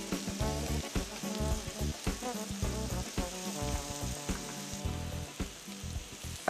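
Peppers, red and green, frying in a pan of sofrito with garlic for a seafood fideuá, giving a steady close sizzle and crackle throughout with no talking.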